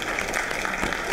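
A school audience at a writers' week event claps and cheers for itself, a steady dense patter of hands filling the room for a brief moment with no clear speech over it.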